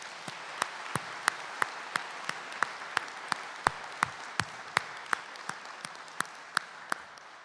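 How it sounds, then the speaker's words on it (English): A crowd applauds a high school band steadily at a board of education meeting, with sharp individual claps standing out in an even rhythm over the continuous patter. "give the Manteo High School band another big round of applause"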